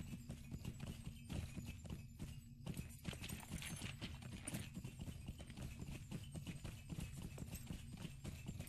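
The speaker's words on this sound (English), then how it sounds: "Let's go on our horse, our valiant steed." Horse hooves galloping in the video game LotRO, a rapid, continuous clip-clop of hoofbeats at moderate volume with a steady rhythm throughout.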